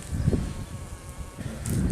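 A low, steady buzz of honey bees at a feeder fills the clip, swelling and fading slightly as insects move close to the microphone, with no voices.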